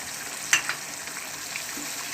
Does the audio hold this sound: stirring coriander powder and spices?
yes